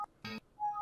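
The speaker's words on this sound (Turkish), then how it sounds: "Windows error seslerinin hepsini mp3'ünü almış adam" Short electronic Windows error sounds follow one another on a Windows 7 computer infected with the MEMZ virus: brief beeps, a buzzy burst and a sustained chime, faint and with no voices.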